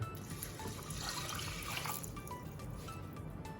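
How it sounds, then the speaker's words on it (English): Liquid poured into a rice cooker over rice while cooking Pacific saury, a steady close trickling wash that runs the whole stretch without any speech. "now we will start to put the rest of the ingredients into the rice cooker. First, we put in the liquid."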